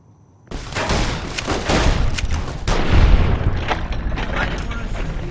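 Rapid bursts of gunfire and booming shots from the Fallout New Vegas video game, Honest Hearts add-on, with a player in power armor fighting tribals, loud and dense across the whole span, with some voices mixed into the din.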